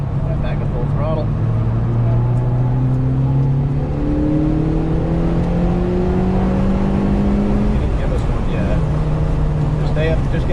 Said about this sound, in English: Right back to full throttle.